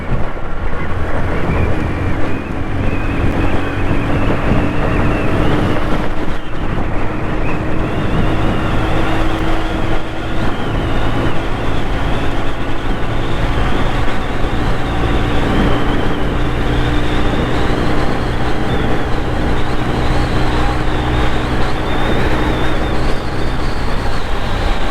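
2010 Honda Activa 110cc CVT scooter ridden flat out at top speed, heavy wind buffeting over a steady engine drone and road roar throughout, loud and continuous.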